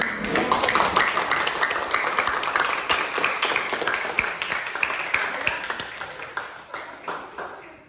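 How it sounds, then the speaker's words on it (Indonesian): A classroom audience claps in dense, continuous applause close by that slowly tapers off, with some voices mixed in. "Oke, kasih aplaus."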